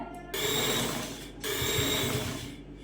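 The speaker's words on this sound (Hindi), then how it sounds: "अब हम दामन पे अपनी सिलाई को चला देंगे।" A sewing machine stitches lace onto a dupatta fabric hem in two steady mechanical runs with a brief pause between them, close and fairly loud with no voices.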